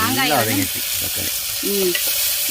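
Tomatoes frying in a hot pan for a green mango rasam give off a steady sizzle, with a voice talking over it near the start and again briefly later.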